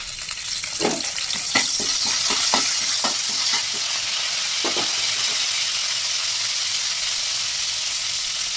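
Curry leaves drop into hot oil for a masala raw banana fry, giving a loud steady sizzle with a few sharp crackling pops early on, then a continuous frying hiss that fills the rest, with no voices.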